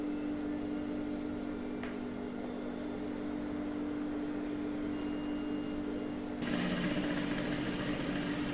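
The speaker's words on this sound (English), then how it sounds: "you stitch it to the fabric. Open it up and stitch it down." A sewing machine stitches corset fabric with a continuous mechanical hum that holds steady and close before growing slightly louder and busier near the end, with no speech.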